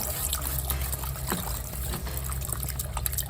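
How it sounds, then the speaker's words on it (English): Warm milk is poured into a pot in a soft, continuous trickle, quiet and close, with light background noise. "we're going to add our milk in"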